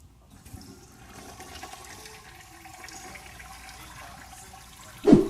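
A toilet flush sound effect: a rush of running water that builds steadily and ends in a short, loud burst.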